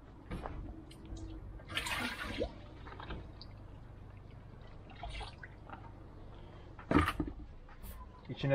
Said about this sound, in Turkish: damlama bidonumuzun içerisine dökeceğiz.